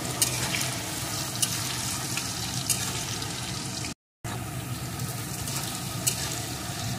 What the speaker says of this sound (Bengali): এখন আলুটা একটু লাল লাল করে ভেজে নেব।